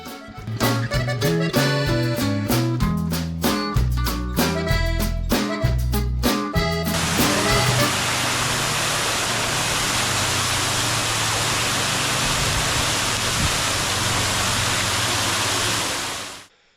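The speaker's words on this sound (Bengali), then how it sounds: "চলে আসলাম সুন্দর একটি ঝর্ণার সামনে" A fountain at Nandankanan zoo gives off a steady, loud rush of falling water for about nine seconds, after a stretch of rhythmic music, then cuts off abruptly.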